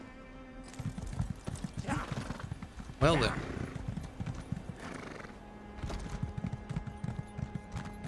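In the video game Elder Scrolls Online Gold Road, a horse's hooves clip-clop steadily with a loud neigh partway through, while a character speaks over the hoofbeats.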